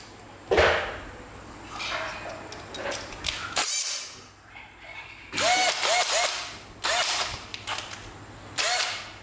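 National cordless driver, a Japanese domestic-market tool, driving a screw: several short bursts of whirring motor with rising pitch, stopping and restarting, close and fairly loud with no talk.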